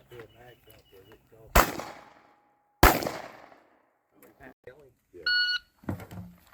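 Two loud, close shots ring out at a two-gun shooting match, each one followed by a long echoing tail. A beep tone sounds later, and voices talk between the shots.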